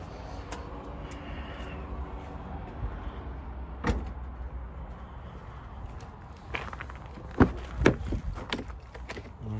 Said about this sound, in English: Electronically controlled tailgate.